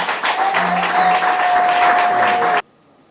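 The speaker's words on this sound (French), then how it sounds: "Nous pouvons applaudir pour nous-mêmes." An audience at an official foundation launch event applauds loudly in a dense, sustained burst that cuts off abruptly, with a faint tone running underneath.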